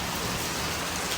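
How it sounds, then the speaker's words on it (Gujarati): Heavy rain pouring down steadily, a dense, loud, even wash of drops hitting surfaces close by, with no voices. "જોરદાર વરસાદ ચાલે છે."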